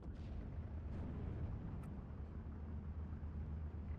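Distant mortar and artillery fire in Steel Division 2, with low rumbling booms under a steady battlefield drone and a few faint sharper bursts, all fairly quiet.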